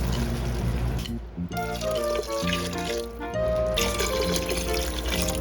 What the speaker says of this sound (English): I'm going to fill up with water